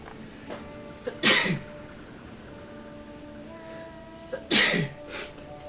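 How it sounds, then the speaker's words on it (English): Two loud, close sneezes a few seconds apart, each with a quick intake before it, over faint background game sounds. "Sorry, I'm gonna sneeze."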